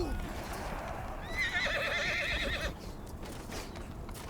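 A horse whinnies loudly in the medieval war game In The Name of Jerusalem, a wavering neigh over busy battle noise and hoof sounds.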